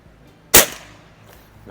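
A single sharp crack from a Beeman QB Chief air rifle firing a pellet during 25-yard testing, loud and close, decaying quickly into a quiet background.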